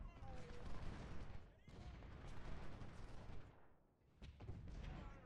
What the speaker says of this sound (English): Make sure all the artillery is targeting this guy.